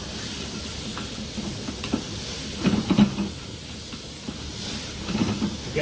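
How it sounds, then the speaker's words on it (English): Shallots soften gently in a pan for cider-braised chicken with a quiet, steady sizzle and a soft hiss, plus a few louder stirring scrapes near the middle and end. "soften the shallots without colouring"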